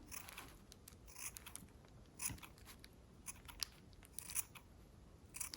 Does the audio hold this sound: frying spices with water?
no